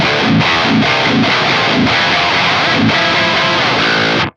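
Heavily distorted electric guitar through a Fractal amp model on a purple channel with high aggression settings, loud and dense with palm-muted chugs in a driving rhythm, then a sustained ringing chord that cuts off sharply.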